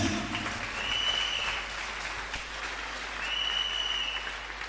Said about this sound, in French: Oh, acclame bien.